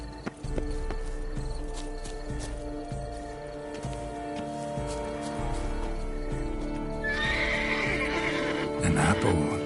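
A horse in the video game The Witcher 3 whinnies amid hoof clip-clops and game ambience, with a louder, higher neigh near the end; a voice speaks over parts of it.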